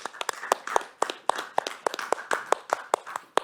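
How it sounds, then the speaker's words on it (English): A small lecture-hall audience at a Tilburg University Studium Generale talk claps for the speaker, sparse, distinct hand claps at an uneven rhythm, fairly close and clear with no talk over them. "Please give a big applause for Ivan Nyklicek."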